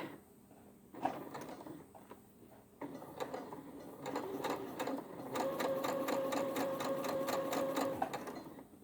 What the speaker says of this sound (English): 2 stitches, 1, 2, and then back, back, and then I'll just stitch forward